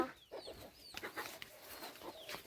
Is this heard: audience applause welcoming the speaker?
no